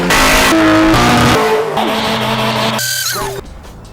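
A car doing a burnout gives off a loud, close engine roar with shifting, sliding pitch and squealing tires, running continuously before easing off at the end.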